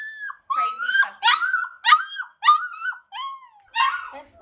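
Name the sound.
puppy barking and whimpering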